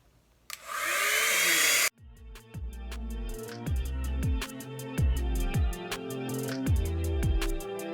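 Hair dryer blowing air over a wet acrylic paint pour, a steady loud whoosh for about a second and a half before cutting off, followed by repeated knocking and tapping sounds.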